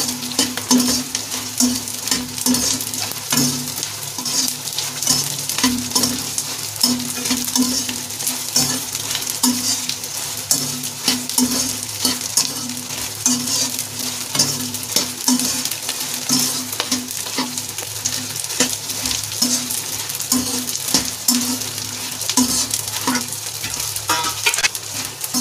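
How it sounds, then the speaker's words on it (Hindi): Edible gum (gond) roasts in a pan, sizzling and frying steadily while a utensil scrapes and stirs against the metal in repeated strokes, close and continuous throughout. "गोंद को हमें अच्छे से भूनना है"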